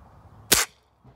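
A single sharp pellet gun shot fired at a lock outdoors, one close crack with a quick decay against a quiet background.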